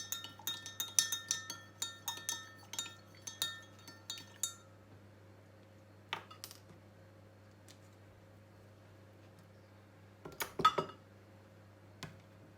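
Candy mixture stirred in a glass bowl, a spoon clinking rapidly against the sides in a quick run of bright taps, then a few isolated knocks and a last cluster of clinks, all quiet and close.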